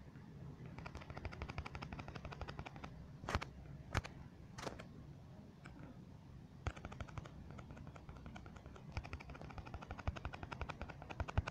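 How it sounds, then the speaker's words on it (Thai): Rapid bursts of video-game gunfire from Kamen Rider Climax Heroes, dense crackling shots repeating throughout with a few louder sharp blasts, steady and moderately loud with no talking. "ยิงรัวไปรัว"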